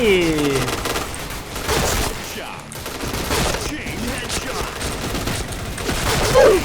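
A shooting video game sends out dense bursts of rapid gunfire, loud and nearly continuous. A voice can be heard over the action.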